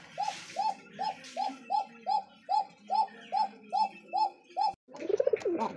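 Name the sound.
pigeons cooing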